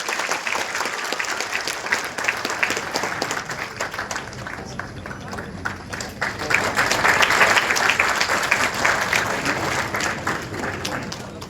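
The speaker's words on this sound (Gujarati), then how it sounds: "તાળીઓથી વધાવો એમનું સ્વાગત કરી રહ્યું." Applause welcomes a guest at a Sudama Dairy milk-day event in Porbandar: steady, dense clapping from a sizeable crowd runs the whole time and swells louder toward the end, with faint voices underneath.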